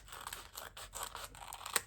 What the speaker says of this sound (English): I like to just snip a little bit off the top of the packet